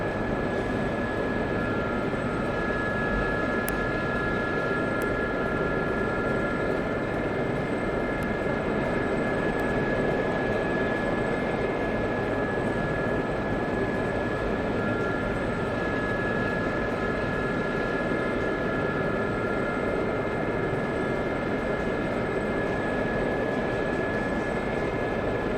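A helicopter rotor in the DCS flight simulator game drones steadily and loudly, a constant mechanical hum with whining tones throughout and no talk.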